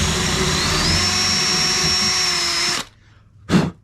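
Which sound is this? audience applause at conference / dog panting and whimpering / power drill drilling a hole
power drill drilling a hole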